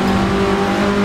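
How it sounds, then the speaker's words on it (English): A 1967 Russell Alexis Mk.14 Formula Ford racing car in Assetto Corsa, engine droning loud and close with a steady tonal whine as another car comes by on the outside. "Oh, and I have a car coming around the outside."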